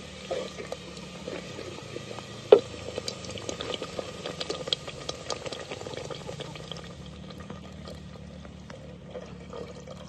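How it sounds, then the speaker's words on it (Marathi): Water poured into a pan of fried spice masala for a village-style egg curry, a steady bubbling, hissing pour with a sharp splash near the start, close and moderately loud, no talk. "आता पाणी ओतून घेणार आहे त्याच्यात."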